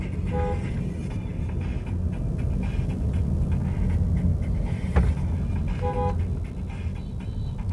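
Car interior on a highway, a steady low road rumble and engine drone with a few faint distant horn toots from other traffic.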